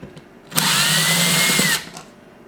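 A cordless power drill unscrews the case screws of a RYOBI 18V lithium battery pack in one loud, steady whir of about a second, with faint clicks before and after.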